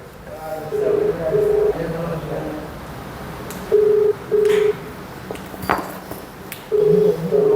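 A phone ringback tone on a call: paired electronic beeps repeating at steady intervals, with faint background noise between rings.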